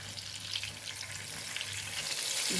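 Brinjal slices frying in a pan after being turned over, a dense steady hiss of sizzling oil, close and even, slowly growing a little louder, with no talk.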